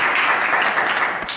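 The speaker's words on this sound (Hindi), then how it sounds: "एक बार जोरदार तालियों से स्वागत हो जाए हमारे साहिबलाल दशहरी जी के" Applause from an audience welcoming a poet at a Hindi poetry gathering, a steady dense wash of clapping lasting about a second and a half with no talk over it.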